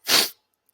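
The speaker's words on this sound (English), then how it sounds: "I had to sneeze." A single short, sharp sneeze bursts out close to the microphone, then silence follows.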